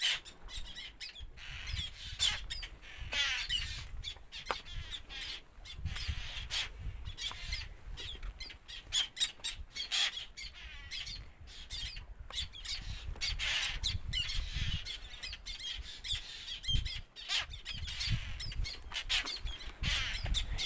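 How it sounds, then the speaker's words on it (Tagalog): Many seabirds squawk and call in a dense, constant chorus on a rock island in the middle of the sea, the sharp cries overlapping continuously at a moderate distance with no talking. "mga ibon."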